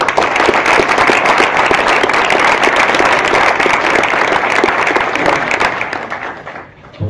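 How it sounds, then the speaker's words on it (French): An audience applauding at a mayor's New Year greetings ceremony in Bohal, loud sustained clapping from a full room that fades toward the end. "Je crois qu'on peut les applaudir."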